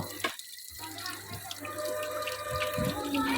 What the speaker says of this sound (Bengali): বেশ কয়েকবার ভালোভাবে ধুয়ে পরিষ্কার করে রান্নার জন্য প্রস্তুত করা হলো